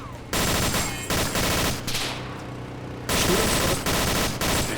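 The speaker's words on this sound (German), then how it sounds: "Wieder Schuss. Ich hör's." Bursts of rapid automatic gunfire in the DayZ video game, several loud volleys separated by short pauses.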